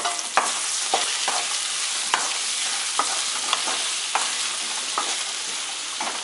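Onions and potatoes fry in hot oil with a constant close sizzle, while a spoon stirs through the pan, scraping and knocking at a steady, irregular pace.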